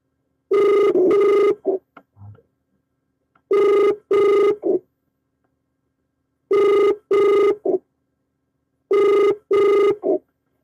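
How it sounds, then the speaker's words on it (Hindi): An unanswered telephone call on a phone-in news broadcast rings in four clear double bursts, each pair separated by a couple of seconds of silence, loud and close with no talk. "इनका फोन कॉल रिसीव नहीं हो पाया"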